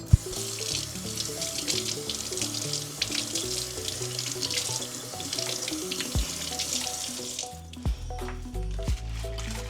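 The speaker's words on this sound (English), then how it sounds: "Let's rinse these off." Running tap water splashes continuously into a kitchen sink as vegetables such as onion and cucumber are rinsed, with squishy handling and a few clunks as the flow changes near the end.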